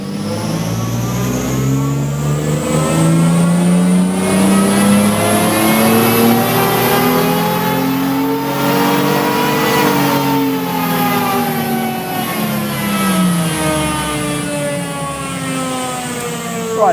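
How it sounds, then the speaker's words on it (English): A car engine revs hard on a chassis dyno in fourth gear, its tone sweeping steadily upward then easing back over a long, loud, continuous pull with no talk. "we'll get the car running on the dyno into 4th gear again, and we can start our 3rd run"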